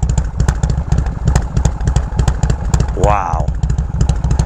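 A 1979 Harley-Davidson FLH Shovelhead idles close by with a steady, loping, lumpy rumble and rhythmic mechanical clatter, while a person speaks briefly over it.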